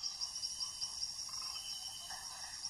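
Dense night chorus in which red-eyed tree frogs call in rapid repeated pulses, blended with a steady high insect drone, moderately distant and without any voices.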